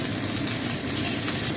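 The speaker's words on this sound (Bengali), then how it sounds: "প্রথমে আমি এই আলু সবজিগুলো সব ভেজে নেব" Potatoes, stalks, pointed gourd and pumpkin fry in hot oil, a steady, dense sizzle and crackle that stays close and even throughout.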